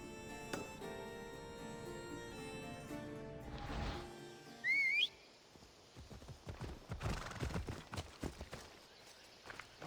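A horse in the Assassin's Creed Odyssey video game snorts and whinnies, then breaks into hoofbeats that start after a sharp synthetic chime and carry on as an uneven run of thuds over game music, with no talking.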